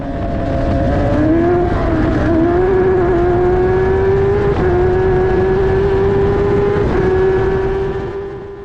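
An F1000 race car runs flat out along the main straight of a circuit, its engine a loud, close, sustained high drone rising in pitch as it accelerates, with a brief gear-change dip and no talk.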